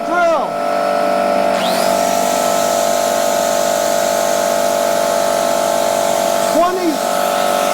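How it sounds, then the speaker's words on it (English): A DeWalt cordless drill whirs steadily at a constant pitch, with brief speed changes near the start and end, loud and close. "DeWalt drill."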